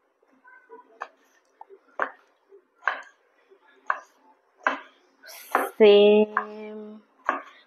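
Knife chopping ridge gourd (shirali) for a Malvani-style bhaji: crisp, regular chops roughly once a second on a board, close and clear, with someone speaking briefly partway through.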